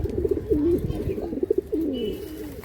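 Caged Andhra pigeons cooing repeatedly, a series of close, throaty rolling coos in quick succession with a voice briefly speaking alongside.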